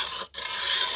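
Stone ground on a homemade intarsia flat lap, a close, continuous gritty rasp that drops out for an instant before resuming.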